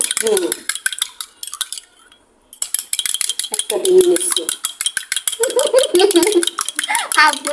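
Rapid clinking of a utensil whisking eggs in a bowl for an egg soup, coming in quick bursts with a brief pause, loud and close, with a few murmured words between strokes.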